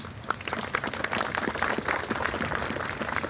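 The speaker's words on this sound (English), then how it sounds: "I think you all deserve a round of applause for such great work." A crowd at a ribbon-cutting ceremony applauds with a dense, steady patter of clapping at moderate loudness throughout.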